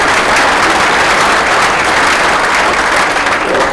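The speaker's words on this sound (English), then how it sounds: "That probably deserves some round of applause." Audience at a Republican governor candidate forum applauding high school students from a Youth and Government Club, a dense, loud, continuous wash of clapping throughout with no talk.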